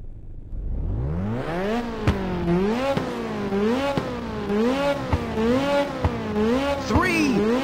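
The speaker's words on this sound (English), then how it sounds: "Now start your engines and get ready" Race car engines in Ridge Racer on PSP rev hard at the starting line, rising and falling pitch sweeps repeating in a steady pulsing rhythm, loud and close, with sharp clicks between revs.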